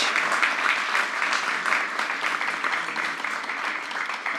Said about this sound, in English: Let's have a round of applause for our guests today.